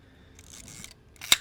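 A Zenit B M42 Russian film SLR camera fires its shutter, one sharp mechanical snap near the end, preceded by faint handling noises.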